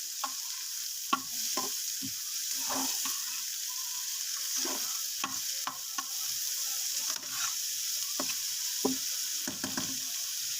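Onion is stirred and fried in a pan, giving a steady bright sizzle up close with repeated scraping and knocking strokes from the spoon scattered throughout, and no voices.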